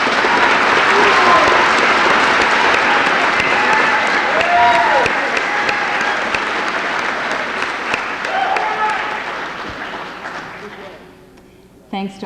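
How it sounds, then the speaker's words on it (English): A graduation audience at an adult education ceremony claps in a long, loud sustained ovation of dense, even clapping that tapers near the end, with faint voices mixed in. "could you please stand one more time and receive applause from all of us?"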